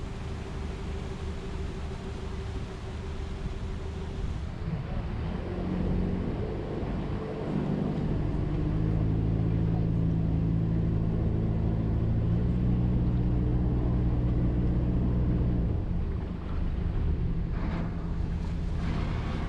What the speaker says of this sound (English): you can just about hear the bow thrusters in the background